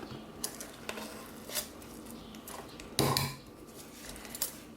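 Vegan non-dairy sticky toffee pudding ice cream is scooped into a big bowl, with a few scattered metallic clinks and scrapes of a scoop against the dish over quiet background, one sharper scrape standing out.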